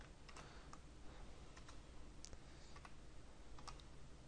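Quiet keystrokes of Java code being typed on a computer keyboard, scattered light clicks in a short irregular burst over a steady background hiss, close by and without speech.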